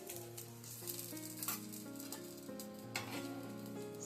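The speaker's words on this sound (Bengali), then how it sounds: "আপনি চাইলে বাটার কিংবা দেশি ঘি দিয়েও সেঁকতে পারেন পরোটা।" Aloo paratha frying in oil on a pan, a continuous soft sizzle with occasional crackles under a sustained background tone, steady and close.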